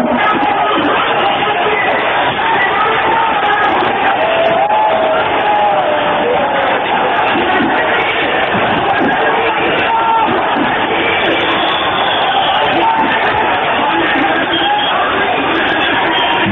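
Large angry, frenzied crowd at the Babri Masjid in Ayodhya in 1992, a dense, continuous roar of many voices shouting and cheering at a steady loud level throughout.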